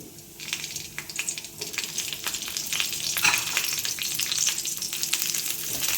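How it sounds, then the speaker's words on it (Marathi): Two green chillies dropped into hot oil for a ridge gourd peel chutney crackle and sizzle close by, the frying growing steadier and a little louder as they are stirred. "आता या तेलामध्ये मी मिरच्या घालते"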